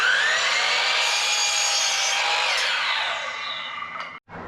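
A power saw cuts through scrap wood for a porch decoration build, giving a loud, steady, sustained whine that holds for several seconds, tails off and stops abruptly near the end.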